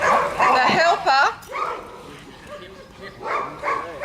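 A police dog during a training demonstration barks and yips sharply in a few quick bursts near the microphone, with whimpering sounds between them and someone speaking over the scene.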